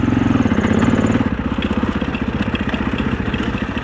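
A 650 four-stroke enduro dirt bike on a trail runs up close with a loud, chugging thump that steadies into an even, rapid pulse as the throttle settles, and no talk is heard over it.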